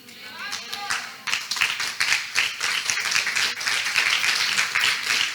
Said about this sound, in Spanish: no me gusta que me aplaudan